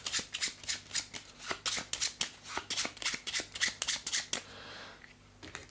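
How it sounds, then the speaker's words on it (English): Playing cards for a Horizon Zero Dawn board game being shuffled into a deck, a rapid run of crisp riffling snaps close up, ending in a softer rustle. "Shuffle them into our deck."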